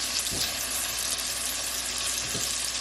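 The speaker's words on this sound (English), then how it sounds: "I'm going to add my garlic. And I'm going to add my scallion and thyme." Garlic, scallion and thyme frying in oil in a cooking pot give a steady, faint sizzling hiss throughout with no voices.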